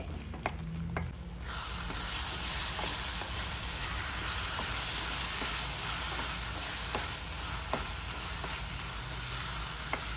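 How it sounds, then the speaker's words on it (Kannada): Chilli and achar powder frying in oil on a low flame for tomato gojju give a steady, close sizzle, punctuated by light clicks of a spoon stirring in the pan. "ಮೆಣಸಿನಕಾಯಿ ಪುಡಿ ಕೂಡ ಚೆನ್ನಾಗಿ ಎಣ್ಣೆಲಿ ಫ್ರೈ ಆಗಿದೆ."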